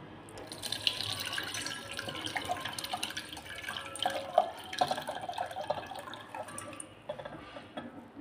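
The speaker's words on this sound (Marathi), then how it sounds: "मी हे थोडंसं बाहेरचं असं पाणी काढून टाकते आणि ही मटकी पण काढून टाकते" Soaking water is poured off a bowl of moth beans in a home kitchen, producing faint trickling and intermittent splashes and drips at close range, with no talking.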